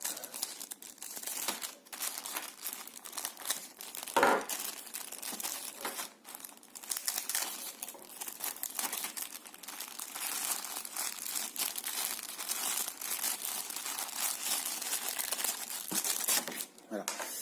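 AKG Q701 headphones and their cable being unboxed, with continuous crinkling and rustling of plastic packaging close up and a brief tearing sound.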